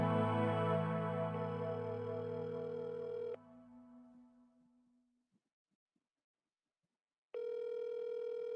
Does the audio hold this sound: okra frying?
no